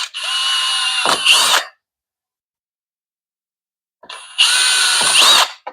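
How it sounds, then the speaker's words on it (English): Power drill boring two holes through a lid, each burst loud and close: a steady whine lasting over a second, then silence, then a second burst of drilling. "Next thing I want to do is I want to drill my 2 holes in my lid here."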